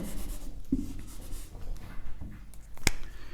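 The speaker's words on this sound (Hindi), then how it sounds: "मैं इनको थोड़ा साइड में लिख देता हूं" Chalk or marker scratches on a classroom board while a short figure is written, a faint close rubbing under room noise with one sharp tap near the end.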